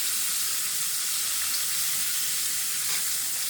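Fish fries in a hot pan, giving a dense, continuous sizzling hiss close up, with faint pops and spatters throughout.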